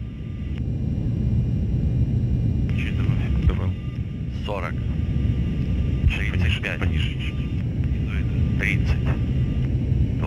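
An Antonov An-225 Mriya, the world's largest aircraft, lands at Karachi International Airport, heard as a loud, steady, broadband engine rumble that persists throughout, with crew voices speaking over it.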